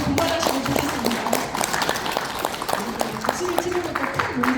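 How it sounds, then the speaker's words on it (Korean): Audience clapping at a Buddhist lecture on tea, health and detox in a Flushing hall, a dense wash of claps running steadily under overlapping voices and chatter. "박수를 치는 것도 큰 용기니까는."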